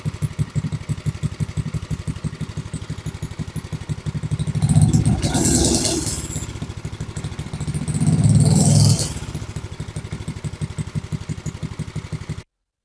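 A small single-cylinder engine on a junk go-kart idles with a steady fast chug, then revs up twice as the clutch engages, each surge louder and rougher before dropping back to idle, recorded up close.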